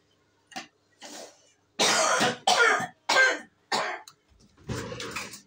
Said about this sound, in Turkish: hem yerim diyor hem öksürürüm diyor